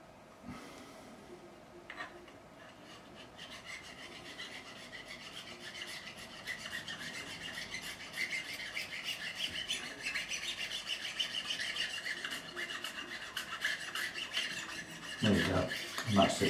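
Hand sanding fret burrs on a Telecaster guitar neck held in a vise, a quiet steady rasping rub that grows a little louder over time.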